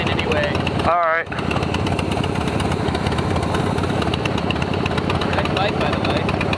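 Harley-Davidson motorcycle engine rumbling steadily and loudly up close while riding in traffic, with a brief dip and a short rising whine near the start.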